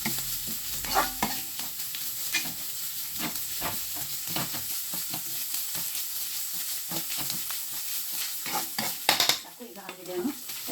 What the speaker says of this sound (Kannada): ಈಗ ಚಿಕನನ್ನು, ಕ್ಯಾರೆಟ್, ಆಮೇಲೆ ಕರಿಬೇವು ಸೊಪ್ಪು ಅದನ್ನು ಕೂಡ ಆ್ಯಡ್ ಮಾಡಿದ್ದೀನಿ. ಸ್ವಲ್ಪ ಫ್ರೈ ಆಗಬೇಕು.